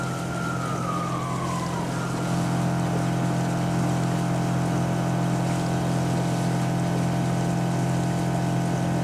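A steady, loud boat engine drone in Watch Dogs 2 with a low mechanical hum holds throughout, joined early by a brief falling whistle-like tone.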